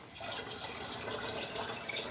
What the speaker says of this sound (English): I'm filling this bottle up, this 2-liter bottle, almost all the way up here